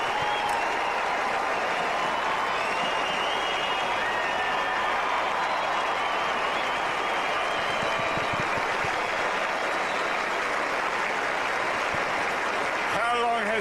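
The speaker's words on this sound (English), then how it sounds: "this crowd refuses to A, go away, or B, stop applauding" Crowd at the 2003 Australian Open tennis quarterfinal between Roddick and El Aynaoui, sustained dense applause and cheering from a large stadium audience, loud and unbroken for the whole stretch, with voices mixed in.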